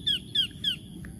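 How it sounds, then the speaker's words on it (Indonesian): A bird gives three evenly spaced, sharp squawking calls, fairly close, over a low background rumble outdoors. "Nah itu barusan burung"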